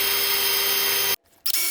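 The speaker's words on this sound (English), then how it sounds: "I'm drilling multiple holes because sometimes I try to drill in the concrete" A power drill runs loud and steady while boring holes in concrete for 3/4 EMT conduit, cuts off abruptly, then briefly restarts after a short pause.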